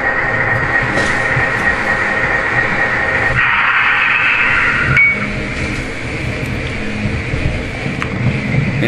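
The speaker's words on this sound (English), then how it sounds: "So here's the sound of the Proto 1 reset sound." MTH Proto 1 sound system in a C&O E-8 diesel model train, giving its reset and programming sounds: a steady, continuous mechanical hum with a brief brighter tone in the middle and faint clinks, with no talking.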